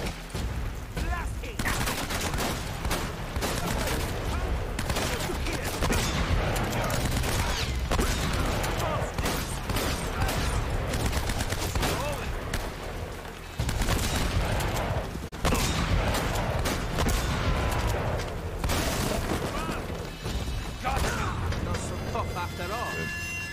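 Repeated loud shotgun blasts and other gunfire from a video-game firefight in the final showdown chapter of Uncharted: Drake's Fortune, dense and continuous, with a voice talking over the shots.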